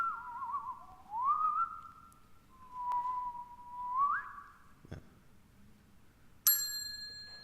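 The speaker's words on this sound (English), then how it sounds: "Bell." Whistled gliding tones followed by a short sharp bell ring near the end, quiet and isolated in a still setting.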